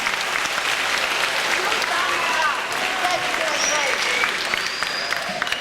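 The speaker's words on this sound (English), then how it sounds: "Can you give yourselves a round of applause for being here today?" A school audience applauds steadily at a morning presentation, dense clapping filling the room for several seconds with a few brighter tones and murmurs mixed in.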